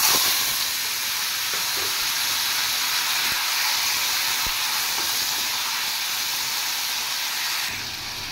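Tomatoes go into a hot pan and sizzle, a loud steady hiss that holds evenly for several seconds, with a few small pops and clatters underneath before it eases slightly at the end.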